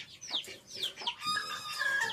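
A hen clucks nearby in a series of short, rising calls, then settles into a longer drawn-out cackle.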